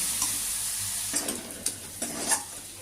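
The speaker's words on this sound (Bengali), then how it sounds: "এবার ঢিমে আছে মশলাটা আমি কিছুক্ষণ কষিয়ে নেব" Steady sizzle of spice paste with Kashmiri chilli frying on low heat in a pan, with a few scraping stirs of a spoon; close and continuous, no voices.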